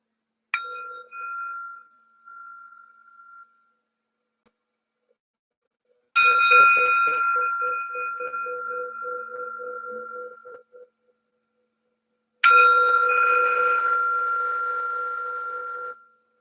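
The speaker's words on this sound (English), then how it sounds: "Bell and the bow signifying the beginning of this special practice." A meditation bell is struck three times to open a practice session, each strike ringing out clear and close, then decaying slowly into silence, the later two ringing longer and fuller.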